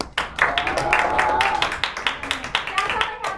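Students give themselves a round of applause in a classroom, a lively cluster of sharp, fairly close hand claps that keeps a loose, quick rhythm throughout.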